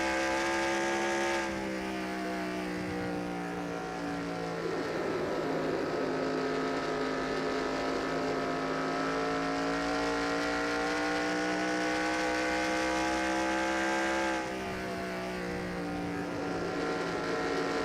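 Simulated race cars in the NASCAR Racing 2003 video game drone steadily on track, with a continuous loud engine whine that holds and shifts pitch slightly throughout.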